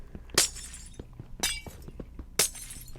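Glass blocks shatter in the Minecraft video game, three sharp bright breaking crashes spaced about a second apart, each with a quick tinkling tail, between softer clicks and taps, with no talking.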